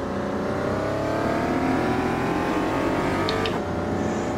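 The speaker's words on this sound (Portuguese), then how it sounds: "o barulho de dentro do carro não tá tão realista. Parece que tá mais um zunido do que um barulho do motor de maneira decente" Interior engine sound from a car in the Automobilista 2 racing game, a steady whining drone with rising harmonics as it accelerates, loud and continuous with no talk.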